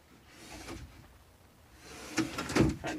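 Solid maple dovetailed drawers in an aluminum-framed camper van slide and bump shut, a soft wooden rub followed by a couple of closer knocks near the end, fairly quiet with no talk.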